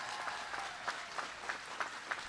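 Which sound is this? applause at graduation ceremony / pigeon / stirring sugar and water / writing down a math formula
applause at graduation ceremony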